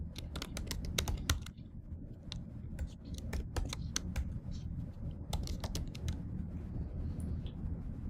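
Steady, quick typing on a computer keyboard while entering a subnet name, a rapid run of close keystrokes with a brief pause midway, continuing over a constant low background hum.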